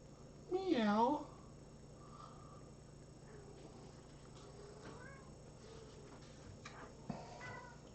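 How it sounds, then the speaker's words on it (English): One close, drawn-out meow rises and falls, then quieter chirps and faint meows follow sporadically over a low background hum. "Sometimes we sing back to them in our very own way. Meow, meow, meow."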